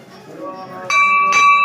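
A temple bell at a mandir rings twice during puja, each strike leaving a clear ringing tone that sustains, with people talking nearby throughout.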